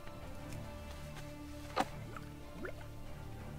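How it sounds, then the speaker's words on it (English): Water drips in a fantasy video game with a couple of distinct liquid plops, one louder drip in the middle, over a low steady ambient hum. "Some water."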